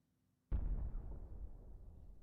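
Artillery battery firing in the Civil War strategy game Grand Tactician: a sudden heavy boom breaks a quiet lull, then a long rumbling roll of distant cannon fire sustains for nearly two seconds, with no talking.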